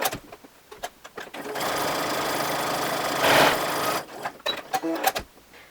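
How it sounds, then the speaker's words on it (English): A sewing machine hums in a steady, rapid run for a few seconds stitching down fabric edges, with soft handling clicks and bumps before and after. "let me meet you over at the sewing machine and we can go ahead and do that"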